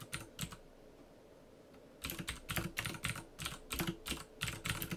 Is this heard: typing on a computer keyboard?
yes